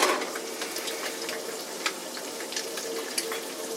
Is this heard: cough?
no